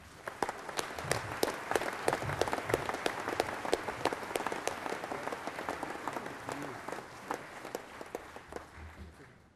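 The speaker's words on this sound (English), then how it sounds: "give them a round of applause" Audience applause at a 2010 water industry awards dinner, a steady wash of many hands clapping with sharp individual claps standing out, moderately distant and continuing for several seconds.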